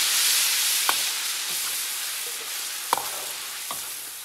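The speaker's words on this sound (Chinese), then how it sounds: "小火慢熬，不停的搅拌，把水分给它搅干。" Tomatoes simmering and being stirred over low heat in a pot with beef trimmings, a steady soft sizzling hiss broken by a few sharp scrapes of the utensil against the pot, close and fairly quiet.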